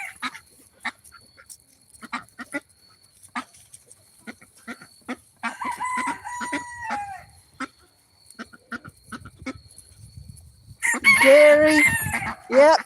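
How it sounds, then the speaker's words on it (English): A blue-red rooster crows twice, once midway and again louder near the end, over scattered clucks and pecking taps from the farmyard flock, with no talking. "Gary is this blue-red rooster."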